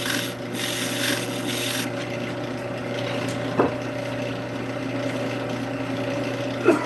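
Steady rubbing hiss of a detail spindle sanding wood in a workshop, continuous and fairly close, with a low motor hum underneath and a couple of brief sharp knocks.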